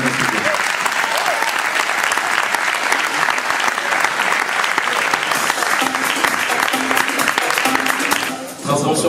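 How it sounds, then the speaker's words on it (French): Sustained audience applause for a basketball coach at a CEP Lorient Basketball season presentation evening, dense steady clapping from a crowd throughout, easing slightly near the end. "Je vous demande d'applaudir Philippe Maucourant, coach du CEP Lorient Ba"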